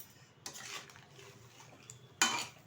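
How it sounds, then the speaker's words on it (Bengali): A spoon scrapes and clanks against a pot of rohu fish curry with potatoes and ivy gourd, two distinct metallic knocks with a soft stir between them, close and fairly quiet. "একটু নেড়ে দিচ্ছি"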